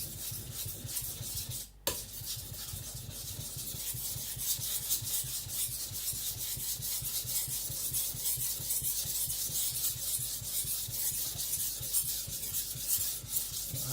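A high speed steel gyuto knife is ground against a Shapton Glass 220 whetstone during thinning, a close, rhythmic rasping scrape of steady back-and-forth strokes with one brief pause near the start and no talking.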